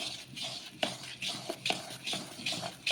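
Boiled, cooled milk being stirred into a Parle-G biscuit cake batter in a bowl, giving soft repeated scraping and clinking strokes at a steady rhythm, close and fairly quiet, with no talking.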